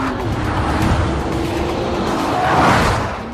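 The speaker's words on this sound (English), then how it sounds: "This is the GTR. Brutal acceleration." A Nissan GT-R accelerates hard, a loud, sustained engine roar that swells toward the end, with no voices.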